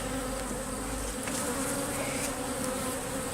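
A thick, continuous drone of honeybees comes from an opened hive in close, loud, unbroken buzzing, with no voices over it.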